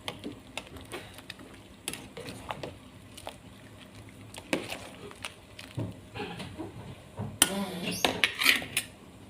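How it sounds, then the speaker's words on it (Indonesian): A utensil stirs sayur mangga Betawi, a Betawi mango vegetable dish, in a cooking pot, making irregular metallic clinks and scrapes at close range, with a louder clatter near the end. "Aduk dulu sampai rata."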